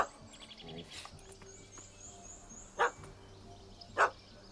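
A dog barks twice in The Witcher 3: Hearts of Stone, short sharp yaps a second apart, set against a quiet outdoor game ambience with faint bird chirps.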